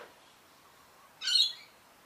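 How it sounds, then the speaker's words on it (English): A single short call from a rainbow lorikeet in a South Australian back garden in the morning, a brief bright burst rising out of near-quiet background, faint and somewhat distant. "I was just feeding my doves and noticed all these rainbow lorikeets are out there feeding"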